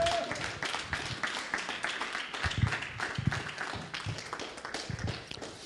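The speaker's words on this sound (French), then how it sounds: "Est-ce qu'on peut l'applaudir" Congregation in a Granby church applauding to thank and honour someone during a communion service, a dense patter of claps with a few louder hits, steady and moderately loud with faint voices mixed in.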